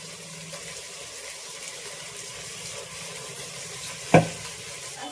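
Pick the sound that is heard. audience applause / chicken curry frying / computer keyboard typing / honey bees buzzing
chicken curry frying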